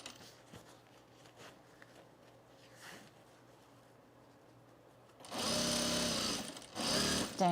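A home sewing machine runs straight seams on a travel bag, a dense whirring burst starting after several seconds of quiet handling noises and continuing near and loud to the end.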